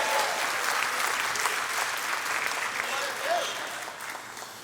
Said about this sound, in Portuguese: Se você recebe, dá uma salva de palmas ao Senhor.